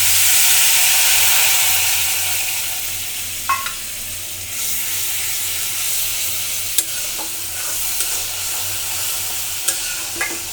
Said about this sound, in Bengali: এই যে পানি দিয়ে দিলাম